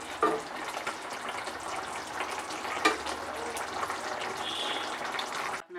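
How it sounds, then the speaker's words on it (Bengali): Chicken simmers in water in a pan, a soft continuous bubbling and sizzling close by, with a few light clinks of stirring. "এই জলটা যতক্ষণ শুকনো হবে এটাকে রান্না করতে হবে।"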